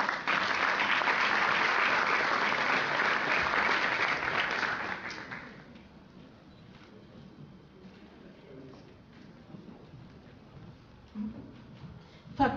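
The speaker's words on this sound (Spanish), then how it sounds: "Un fuerte aplauso." Loud applause from a crowd at a university science award ceremony fills the first five seconds, then fades to a quiet room with scattered small noises and a brief clap near the end.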